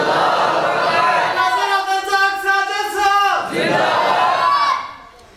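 A crowd at a religious speech answering the Takbir call with a loud, sustained collective chant that swells in the middle and fades at the end.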